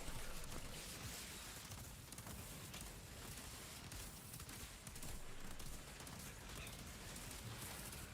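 Distant, steady gunfire and chaotic combat noise from an Outriders expedition, a continuous low wash of shooting and explosions with no clear individual shots standing out.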